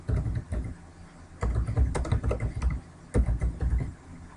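Fingers type a campaign title on a computer keyboard, tapping out quick clustered bursts of keystrokes with short pauses between them, close and moderately quiet.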